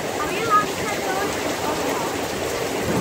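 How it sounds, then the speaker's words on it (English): Heavy storm rain pouring down outdoors, a dense, loud and steady hiss of water on surfaces with no break. "You can see a lot of rain is happening."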